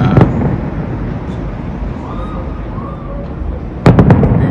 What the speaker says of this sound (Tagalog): So yan, nag-i-start na yung fireworks.